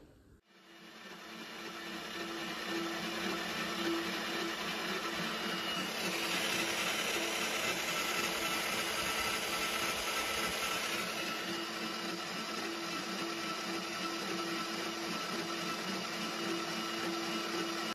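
Line boring bar cutting through a John Deere tractor headstock, a steady whining machining drone that starts after a short quiet moment and runs continuously at moderate level, with no talk.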